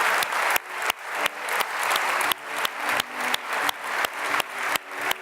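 At the 2018 European Heritage Awards ceremony, an audience applauds the conservation-category winners with a full, close burst of steady clapping that carries throughout without voices.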